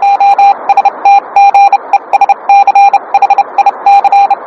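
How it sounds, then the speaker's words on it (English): Encrypted Morse code radio signal, a loud steady tone keyed in rapid dots and dashes with short gaps, sent continuously and heard alone without any voices. "The Enigma messages were sent in encrypted Morse code."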